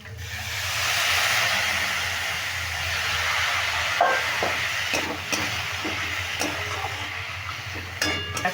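Water splashed into a pan of frying chana dal and tomato with salt and turmeric sets off a broad steamy hiss that swells and fades, followed by crackling sizzle and light scraping.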